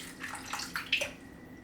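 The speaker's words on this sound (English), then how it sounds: "now I'm going to pour my stock right on the sides" Chicken stock poured into a baking pan around the sides of chicken, a short, fairly quiet splashing trickle in brief uneven bursts lasting under two seconds, with no talk.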